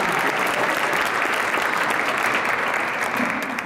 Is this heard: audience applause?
yes